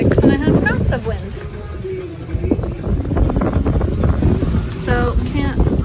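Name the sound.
wind blowing on a sailboat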